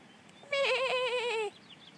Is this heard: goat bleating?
yes